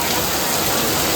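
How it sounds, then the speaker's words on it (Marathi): Heavy monsoon rain driven by strong wind pours down outside a Mumbai chawl, a dense, constant rushing hiss heard up close for a brief moment. "जोरदार वारा आणि पाऊस एकसाथ"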